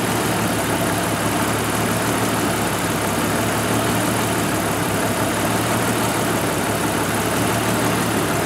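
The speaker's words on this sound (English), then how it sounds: "you can hear a slight rolling of the idle. It's surging up and down about 75 RPM." A 1988 Jeep XJ with the 4.0 engine idles with a mild surging RPM, a close, continuous mechanical drone that holds steady and loud throughout without other sounds.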